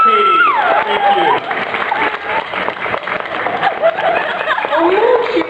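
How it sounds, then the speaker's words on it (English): Audience applause and cheering fill the room at an amateur voice acting panel at the SacAnime Summer 2011 anime convention, steady and loud throughout, with voices and laughter mixed in. "Applause!"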